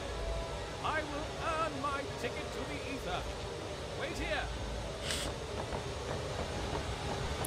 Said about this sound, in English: Oh my god, it's a runaway train!